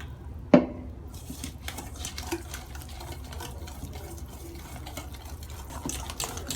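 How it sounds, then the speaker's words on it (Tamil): Pancake ball batter is mixed in a bowl while water is poured in bit by bit. A sharp clink opens a steady, soft stirring and sloshing that runs on alone. "இனி இதுக்கு அளவாக கொஞ்சம் கொஞ்சமாக தண்ணி விட்டு இதை மிக்ஸ் பண்ணி எடுப்போம்"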